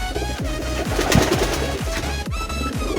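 A pigeon coos in low, repeated swooping calls while being vaccinated, close by, with a steady electronic hum and some handling noise beneath.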